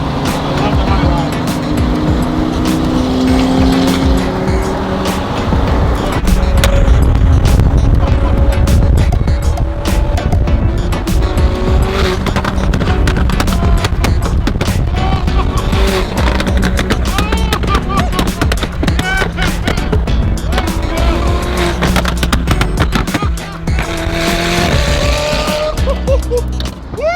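Car with a tuned aftermarket exhaust, loud and close, with revving, roaring engine bursts and crackles that rise and fall throughout, under some talk.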